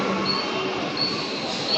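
Steady close rumble of a train arriving at Vitthalwadi station, with thin metallic wheel squeal streaks riding over the continuous noise.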